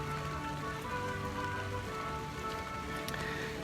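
Steady rain pours down at Magic Kingdom, pattering evenly on surfaces near the Hall of Presidents, a continuous close wash of drops with no voices.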